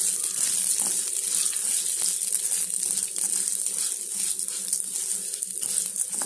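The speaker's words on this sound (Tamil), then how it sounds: "இந்த நெய்யிலேயே வந்து லோ ஃப்ளேமில் வச்சு நல்லா வறுக்கணும்." Moong dal frying in ghee over a low flame gives a steady soft sizzle with faint crackles and light stirring scrapes, continuous and close, with no voices.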